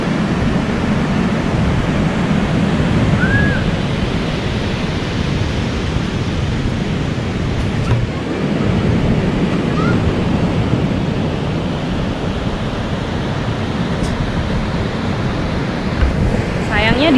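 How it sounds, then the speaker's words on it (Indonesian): Ocean surf rolls steadily at Triangulasi beach in Alas Purwo, a strong-current shore, as a continuous broad wash with wind noise across the microphone. No distinct single wave breaks stand out. "Ini kita lagi di pantai Triangulasi"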